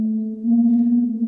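A fractal texture from the Sample Logic Trailer Expressions 3 library sounds as a short, loud, sustained low synthetic tone with a slight wavering shimmer, heard alone.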